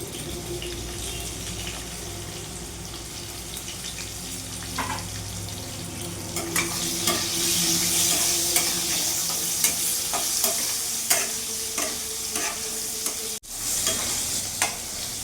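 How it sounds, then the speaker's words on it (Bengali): Eggplant and pointed gourd sizzle in oil, quiet at first then a louder, fuller crackling hiss with scattered scraping stirs. "বেগুন আর পটলটা ভালো করে ভাজা হয়ে গেছে লাল লাল করে"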